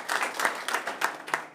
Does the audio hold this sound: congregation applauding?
yes